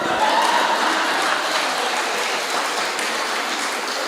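An audience at a Hindi comedy mimicry show applauds steadily, a dense, continuous wash of clapping from a crowd heard alone throughout.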